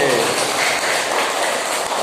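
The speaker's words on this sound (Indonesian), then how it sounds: "tepuk tangan buat yang laki-laki" Children in a classroom clap for the boys, a short, dense burst of applause that stays loud and even from start to finish.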